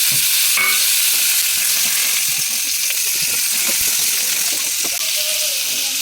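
Kohlrabi and potatoes frying in hot oil in a pan, a steady bright sizzle running throughout with occasional stirring scrapes, close and fairly loud, no talking.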